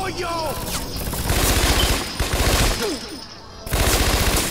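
Rapid automatic gunfire in Scarface: The World Is Yours, loud and sustained in bursts across the clip with a brief lull, mixed with game voices shouting over the shooting.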